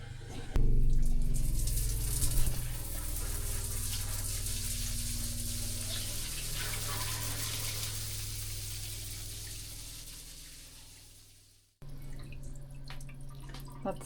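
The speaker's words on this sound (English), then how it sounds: "Antifreeze is still running through everything right now." Antifreeze flows through plumbing lines with a steady watery rush, dripping and gurgling under a low hum, fading out before a brief pause and then resuming.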